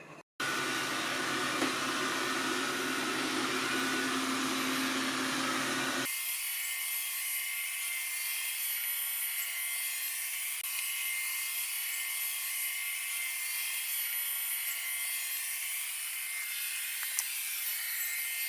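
Dreame L20 Ultra robot vacuum mop cleaning a kitchen floor, a steady close whirring hum running throughout, shifting to a thinner, higher-pitched tone about a third of the way in and staying even to the end.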